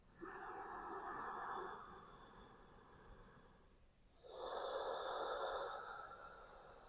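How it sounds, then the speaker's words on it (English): Audible yoga breathing in and out through the nose, with a long hissing exhale, a brief pause, then a strong, rushing inhale, close and steady, without any talking. "In and out of your nose with sound."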